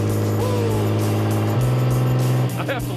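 A loud rally car engine holds a steady drone under throttle, jumps to a higher pitch midway, then drops off as the throttle is released.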